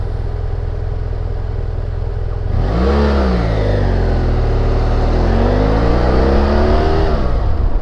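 A BMW F 800 GS motorcycle engine under way on a six-speed ride. It hums steadily at first, then from about two and a half seconds it pulls up loud and close through rising and falling revs as it shifts, with no voices.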